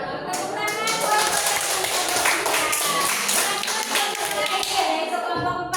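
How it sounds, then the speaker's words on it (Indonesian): Students in a classroom clap their hands together in steady, fairly loud applause lasting several seconds, with voices mixed in among the rapid claps. "Tepuk tangan."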